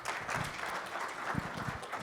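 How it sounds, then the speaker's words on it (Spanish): Audience applause at a master class on quality control in food production lines, a quiet, steady patter of clapping across the whole stretch with faint low rumbles beneath. "por favor, recibamos con un aplauso a Brian Schultetus."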